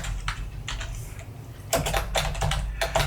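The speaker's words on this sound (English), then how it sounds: "I'm going to type in a username." Rapid, close keystrokes clatter on a computer keyboard as a username is entered, bursts of clicks growing louder and denser in the second half with no voice over them.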